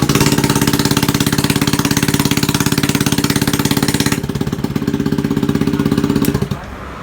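A Honda Vario 150 scooter engine, converted from smart key to a manual ignition switch, chugs in a loud, close, rapid rhythmic putter for several seconds before stopping abruptly near the end.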